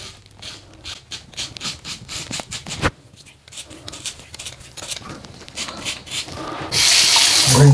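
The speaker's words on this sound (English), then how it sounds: "It's rinsing out well enough." A Gillette Labs exfoliating razor is rinsed under a running tap, with soft rubbing and splashing that swells into a steady, loud gush of water toward the end, close by and without talk.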